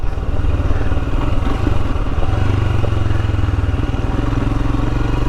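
Royal Enfield Himalayan motorcycle riding a green lane, its steady single-cylinder engine thumping loudly and continuously up close, with a low throb rising slightly partway through and no talk over it.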